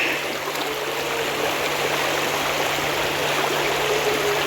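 Steady rush of a flowing stream in the Dooars during the rainy season, a continuous even wash of water, close and unbroken, with no voices.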